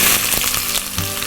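Onion dropped into hot oil with cumin seeds for a spicy mutton curry, a loud, close burst of hissing sizzle that holds steady over the short moment.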